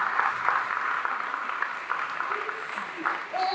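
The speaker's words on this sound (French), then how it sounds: "Je demande d'applaudir chaudement les maris des femmes mariées." Moderate applause at a church ministry school graduation ceremony, steady and somewhat distant, with voices mixed in.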